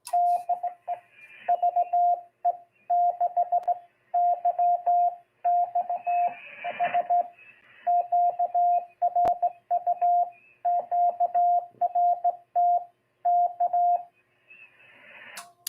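Morse code on amateur radio, a single steady tone keyed in rapid rhythmic dots and dashes, clear and continuous, with faint static and a brief crackle partway through.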